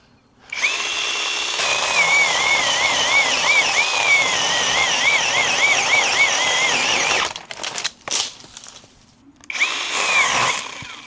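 A SeeSii battery-powered pole saw runs loud and close, its chain whining with a wavering pitch as it cuts, then stops and sputters in short bursts before revving up again briefly.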